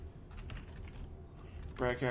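Quiet, irregular taps of typing on a computer keyboard, soft and close, over a low background hum, with a brief burst of talking near the end.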